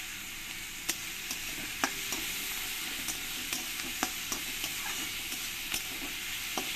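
Onions sizzle and fry steadily in a pan with a spoonful of salt added, as the spatula stirs through them in soft, intermittent scraping taps over a constant hiss.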